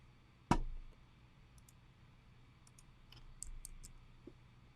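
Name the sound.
mouse clicking to copy embed code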